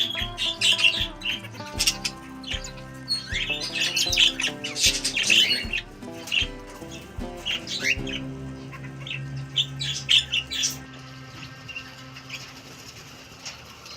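Farmed parrots squawk and chirp in a busy chorus, harsh overlapping calls coming in rapid bursts, some close and loud, with a rhythmic low thumping underneath.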